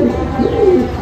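Pigeons coo continuously at close range in a loft of Golden Kamagar pigeons, a low, rolling, layered murmur from several birds with no voices over it.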